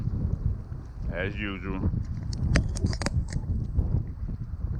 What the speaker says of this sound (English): And the wind picks up, you guys.